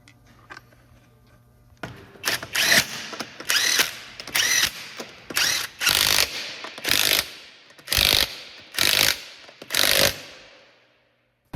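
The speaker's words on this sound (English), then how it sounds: "Put that wheel on. Wheel nut torque, 100 foot-pounds in a 5-star pattern with 2 passes." Wheel nuts go onto a 2003-2007 Honda Accord with a hand ratchet: after a quiet start, about ten loud, evenly spaced bursts of close metallic clicking ring out, each a short stroke, fading at the end with no one speaking.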